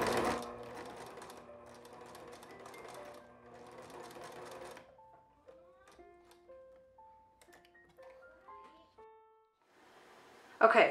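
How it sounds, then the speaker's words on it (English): A sewing machine runs a zigzag stitch forward and backward over scrunchie fabric: a fast, steady mechanical whirring for about five seconds, then it stops, leaving a few light scattered tones and a brief rustle at the end. "I'll switch it to a zigzag stitch, and I like to go forward and backward several times to make sure it's secure"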